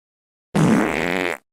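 A single loud, close fart from a dog, one buzzy, sputtering burst lasting under a second before cutting off into silence.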